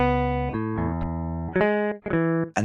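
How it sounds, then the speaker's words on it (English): A dry, unprocessed electric guitar plays sustained harmonic notes and chords, loud and close, changing about every half second to a second with short gaps between phrases. "take a lifeless guitar sound like this"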